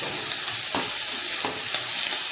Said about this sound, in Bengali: চলো একটু ভাজাভুজি হোক